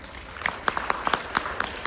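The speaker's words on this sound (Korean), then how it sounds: "대표님 박수로 환영해 주시기 바랍니다" A conference audience at the 2025 TV Chosun Global Leaders Forum briefly claps to welcome a panel speaker. The claps are scattered and moderately loud, and they fade within two seconds.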